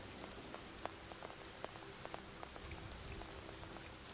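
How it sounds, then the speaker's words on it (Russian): Steady video-game rainfall in Will To Live Online patters on a surface, with scattered sharper drips standing out over the soft, even hiss; quiet and calm. "прям вайбовый такой дождь."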